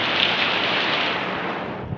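Steady, loud rain pours during a typhoon in Pampanga, a dense continuous hiss of drops filling the whole two seconds with no voices over it.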